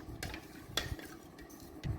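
A spoon scrapes and taps around a bowl while a cornflour mixture for orange tart filling is stirred, with a few sharp clinks against the sides.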